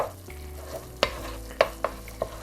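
Coconut milk stir-fried with curry paste gives a low bubbling sizzle, punctuated by four sharp clicks and scrapes of a utensil against the pan, close by and without speech.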